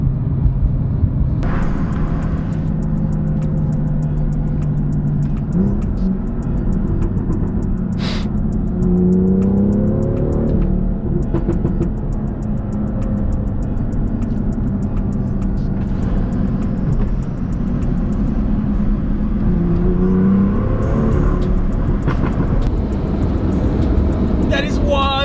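A tuned BMW M2 with a Stage 2 tune, its engine loud and close as it accelerates through rising gear pulls, with exhaust cracks and pops between shifts and someone speaking over it.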